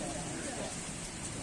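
Rain falls steadily on a football field where a local match has been halted, a dense, even hiss lasting throughout, with voices faintly present underneath.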